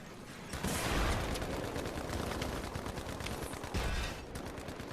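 A dense video-game firefight with many fighters and rockets in play, continuous overlapping gunshots and bursts rolling on for several seconds at fairly loud, steady volume with no talking.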